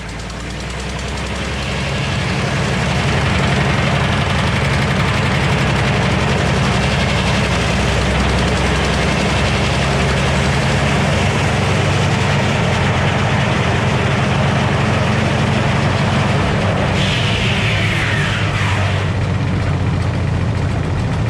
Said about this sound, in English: the engine's bogging down, we're losing RPM, the blade's getting hot